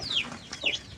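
Young chickens on a poultry farm give a couple of short, soft clucking chirps close by, quiet and brief with no other sounds.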